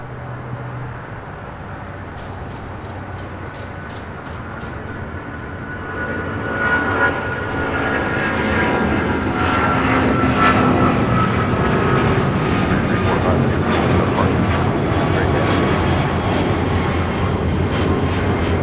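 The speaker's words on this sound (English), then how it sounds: "So had that American One World livery, 777-200ER, now rolling down 25 right" American Airlines Boeing 777-200ER in oneworld livery taking off on runway 25 right at LAX, a steady broadband jet engine roar that swells louder partway through and holds loud as the aircraft rolls and climbs.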